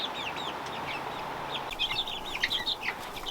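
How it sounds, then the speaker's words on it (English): 25-day-old chicks cluck and chatter close by in an outdoor coop, short bursts of clucks rising over a steady background hum, busier toward the end. "there's the chickens"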